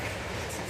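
A train rolls past with a steady, loud rumbling clatter of wheels on the rails, filling the short moment with no break.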